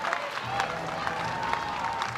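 Florida softball crowd applauding and cheering during a college game against Florida State, a steady wash of clapping with occasional louder bursts, heard from a distance over the stadium ambience.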